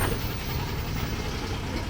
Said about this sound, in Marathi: आपण ज्या बसला ओव्हरटेक केलं ती बस आता आलेली आहे.